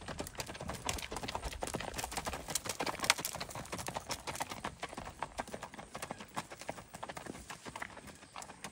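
Horse hooves clip-clop steadily and close up as a rider moves through a canter near a gate, a dense rapid rhythm of hoof strikes with a faint snort or whinny and light voice in the background.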